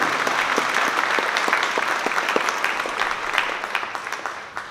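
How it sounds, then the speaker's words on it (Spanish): Lecture audience clapping steadily for an arriving speaker, a dense, fairly close wash of hands that keeps an even level throughout and thins slightly near the end, with no talk over it. "Un fuerte aplauso para el compañero Emilio Telles."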